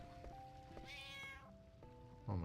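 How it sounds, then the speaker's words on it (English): A cartoonish cat meow sound effect from the video game Final Fantasy IX, loud and close, a single drawn-out meow over a steady musical background, followed by a brief burst of noise at the end. "that's a loud fucking cat sound effect"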